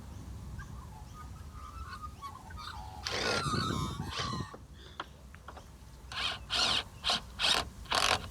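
A ratchet tightens the tie-down bolts on a Land Rover Discovery, starting with quiet mechanical clicks and a short burst of handling noise, then ending in several loud, evenly spaced ratcheting strokes close by.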